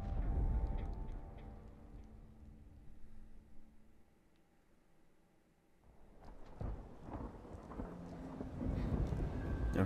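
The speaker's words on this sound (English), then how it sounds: "But I even adore more a good thunderstorm." Rain and thunder in the Dishonored 2 video game: low rolling rumbles swell, fade to a quiet lull and build again, with a rainy wash and a few sharp cracks beneath.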